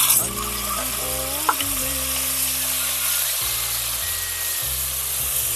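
Chopped tomatoes frying with softened onions in a pan for karamani kulambu, giving a steady, loud sizzle that runs throughout with a few brief stirring scrapes and no talking.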